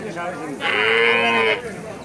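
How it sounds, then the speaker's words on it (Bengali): An eight-month-old Friesian bull calf at a cattle market lets out a single drawn-out call of about a second, close and clear above murmuring market noise. "ফ্রিজিয়ান জাতের সার বাছুর"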